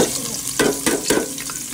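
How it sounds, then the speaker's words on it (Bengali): Onion sliding into hot oil with cardamom and cinnamon, sizzling loudly and steadily with three quick stirring scrapes and spits, close up and without speech. "তো তারপরে দিয়ে দিচ্ছি পেঁয়াজ।"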